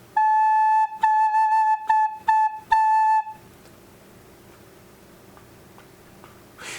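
A breathy recorder plays a short run of repeated notes on A, tongued in a quick rhythm, then stops, leaving faint room noise.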